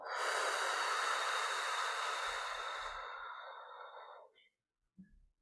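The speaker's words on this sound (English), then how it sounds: "you're gonna take a deep breath, and you're gonna exhale" A single deep breath drawn in and let out during a guided relaxation session: a long, loud, airy rush lasting about four seconds that fades out, then a brief soft puff.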